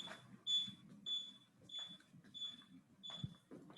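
A lab alarm beeping beside a fume hood, a series of regular high-pitched beeps, one roughly every half second, fairly faint over quiet room noise.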